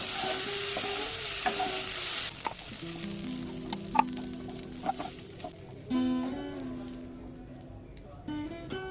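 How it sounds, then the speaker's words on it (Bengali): Prawns sizzle loudly in a hot pan at first, then the frying drops to a softer hiss under someone speaking, with occasional clinks of utensils. "চিংড়িগুলো ভালো করে ভেজে নিয়েছি লাল লাল করে"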